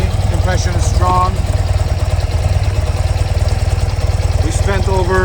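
A BMW R80 RT touring motorcycle engine idles with a steady low pulsing throb throughout, heard close up while a person talks over it.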